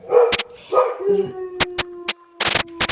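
A dog gives drawn-out, high whining yelps, some rising and held, mixed with sharp dry clicks and taps nearby; the calls are fairly loud and close with no talking.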